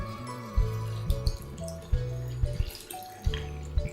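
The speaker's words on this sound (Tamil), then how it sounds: "இதுக்கு கொஞ்சம் தண்ணி ஊற்றி கரைச்சிக்கணும்" Water is poured in uneven splashing bursts into a spice mix for prawn curry, with short gaps between pours.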